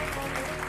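Audience applause at a French business tech evening, a brief steady patter of many hands clapping in a hall, moderately loud and alone.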